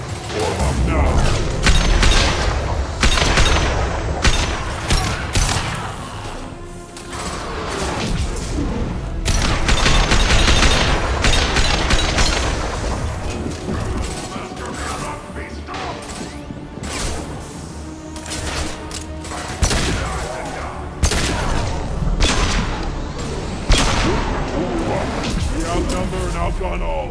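Sci-fi firefight in the video game Mass Effect 2: loud sustained bursts of rapid gunfire and booming impacts fill the whole stretch, mixed with mechanical clanks and game music, while voices call out over the battle.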